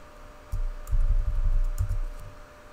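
Quick irregular keystroke clicks on a computer keyboard with soft thumps underneath, close and moderately loud over a low steady hum, rising in a busy burst and then tapering.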